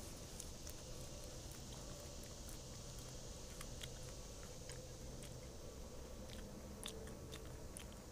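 Someone chews sassafras root outdoors in the Pennsylvania mountains, making faint, close crunching bites that repeat over a quiet background, with no talking.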